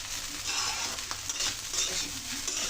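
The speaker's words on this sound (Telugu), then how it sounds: "దీన్ని మళ్ళీ మనం ఒకసారి బాగా కలిసేలాగా కలుపుకోవాలి." Egg fried rice in a pan is stirred with a spatula, giving repeated scraping strokes over a steady sizzle at close range, with no voices.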